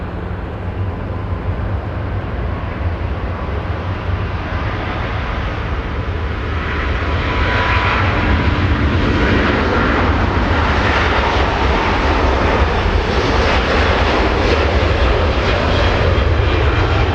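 Virgin Atlantic airliner beginning its departure at Los Angeles International Airport, a steady, loud jet engine roar that swells and grows rougher about halfway through, with no talk.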